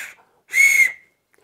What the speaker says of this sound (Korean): 이제 나무 호루라기로 엄마, 아빠, 친구들과 경청 숲놀이를 해보세요